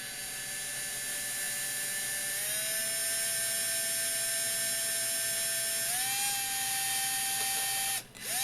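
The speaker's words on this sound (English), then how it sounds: "Start out with a 1/16 drill bit." A small 1/16 drill bit spins into metal on a Jeep EPS part, a steady high-pitched whine that holds and then rises in pitch, ending with a brief clatter.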